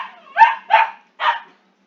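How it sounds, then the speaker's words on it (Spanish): Dogs barking indoors, three loud, close barks in quick succession followed by silence. "estos perros son algo loquitos"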